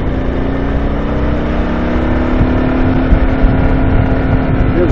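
Kawasaki KLR 650 motorcycle cruising in third gear at 45 mph, its single-cylinder engine holding a steady mid-RPM drone with a constant tone, loud and close, mixed with continuous wind and road rush.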